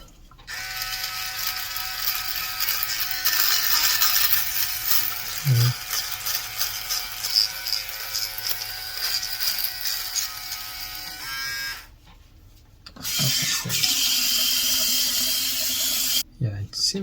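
Brightup rechargeable electric shaver and beard trimmer buzzing steadily with a high whine, running for long stretches, briefly stopping and then restarting, with small thumps of handling and brief talk between runs.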